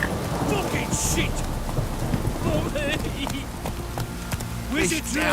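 Heavy rain pours steadily in The Witcher 3, with rumbling thunder and a voice shouting briefly over the storm.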